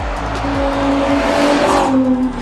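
A 2024 Ferrari Purosangue's 6.5-litre V12 revs in short repeated bursts, its pitch rising and dropping several times, close and loud with no talk.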